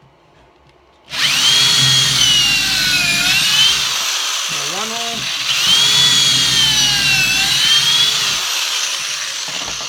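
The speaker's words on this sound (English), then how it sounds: "Put it in a hole, and drill it down until it stops." A loud power drill whines steadily as it bores a pocket hole into wood through a Kreg K4 jig, revving up and settling, with a brief pause midway and a short spoken remark.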